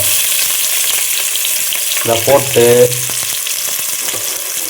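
Hot oil sizzling steadily as onions fry, with a brief spoken phrase and a short burst of louder crackling in the middle.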